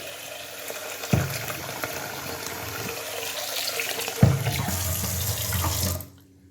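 Steady running tap water splashes over rice in a sink, with two sharp knocks along the way, then cuts off abruptly near the end.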